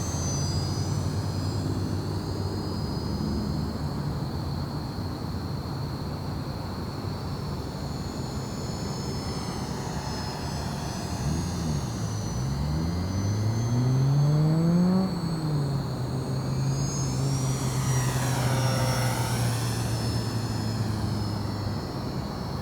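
An H-King Savage Bobber compact STOL RC model airplane with a 1000mm wingspan flies steadily nearby, its small electric motor droning and its pitch rising and falling as power changes and it swoops past, over constant outdoor background noise.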